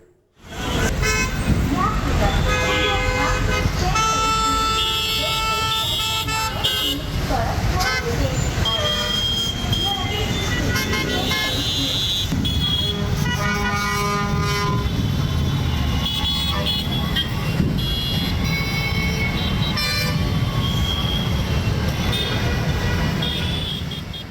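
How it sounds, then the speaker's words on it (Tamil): Heavy, gridlocked road traffic on GST Road in Tambaram, Chennai. A loud, continuous din of engines is pierced again and again by overlapping car, bus and vehicle horns, with voices blending into the background. "தாம்பரம் ஜிஎஸ்டி சாலையில் கடுமையான போக்குவரத்து நெரிசல் ஏற்பட்டுள்ளது"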